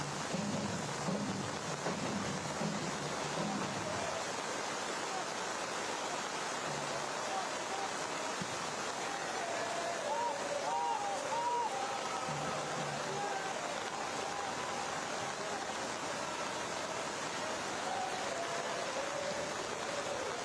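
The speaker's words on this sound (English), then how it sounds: "It's quite the volume of water pouring down on this playing surface." Heavy rain pours down on a soccer pitch during an MLS Next Pro match between Atlanta United 2 and Chattanooga FC, a steady broadband hiss of water lasting throughout, with faint commentary and crowd murmur beneath.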